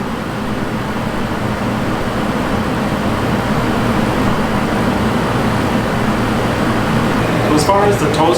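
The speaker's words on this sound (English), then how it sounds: "This is high fan, cool function. This is as loud as this air conditioner will be." A Tosot Tranquility air conditioner runs on high fan in cool mode, giving a steady, loud broadband whoosh with a low hum that holds constant throughout.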